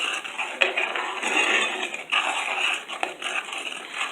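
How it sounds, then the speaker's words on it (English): Chicken alfredo sauce with butter, onion powder, pepper and salt being stirred in a pan, a close, continuous scraping and sloshing with light utensil clicks against the metal. "I'm just gonna stir it."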